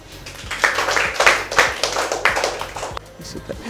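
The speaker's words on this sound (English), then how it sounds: "Clap your hands." Scattered hand clapping from an audience at a school science expo, uneven bursts of claps across a few seconds with some voices underneath.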